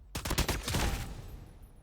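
A mythic fennec weapon in a video game fires a fast, loud burst of close shots that ends in a decaying tail.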